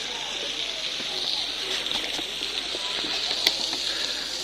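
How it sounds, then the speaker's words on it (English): Steady broadband rush of falling water, fairly loud and continuous, with small splashes and faint voices in the background. "That's the waterfall down there."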